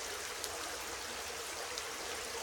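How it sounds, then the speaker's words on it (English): A small natural spring trickles steadily out of the ground in the woods, a soft continuous burble and hiss of running water heard close and alone. "Water coming out of the ground."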